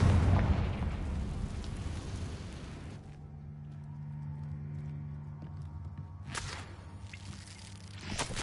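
A Confringo explosion spell cast inside a spider cave in the Hogwarts Legacy game goes off with a loud opening blast that fades into a low rumble, then a second sharp burst follows near the end.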